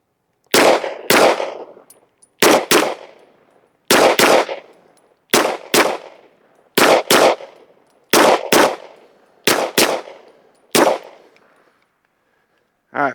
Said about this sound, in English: We're going to fire 2 shots into the A zone and just keep transitioning back and forth till we run out of ammo.